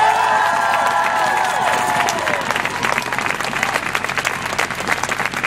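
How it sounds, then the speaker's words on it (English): A large crowd at a march claps and cheers, with whoops and shouts rising over dense applause that stays loud and continuous before thinning slightly toward the end. "Those folks deserve some applause."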